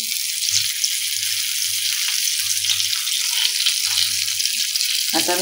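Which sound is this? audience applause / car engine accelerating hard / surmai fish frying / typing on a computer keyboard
surmai fish frying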